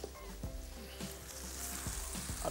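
Vegetables roasting in a hot pan give a steady soft sizzle, with a few scraping stirs of a utensil against the metal, fairly quiet and with no voices.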